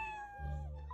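A cat gives a single drawn-out meow, fairly faint, over a low steady rumble of background noise.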